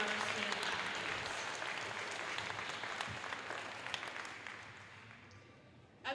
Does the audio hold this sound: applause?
yes